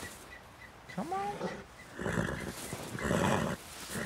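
Horse in Red Dead Redemption 2 giving a rising whinny, then snorting and roaring breaths, close and moderately loud, with hoof clatter in the background.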